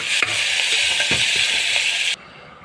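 Onions, green chilies, ginger and curry leaves sauté in a pan for a South Indian upma, a close, steady sizzle with a few stirring scrapes, cut off abruptly near the end.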